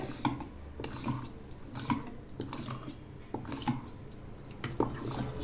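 A spoon stirs chopped onion into curd in a bowl, with soft wet squishing and light clinks of metal against the dish repeating close by.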